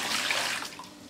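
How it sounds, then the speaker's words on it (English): Excess water poured out of a reverse osmosis filter housing into a bin, a steady close splashing rush that tapers off toward the end, with no talking. "then empty the excess water"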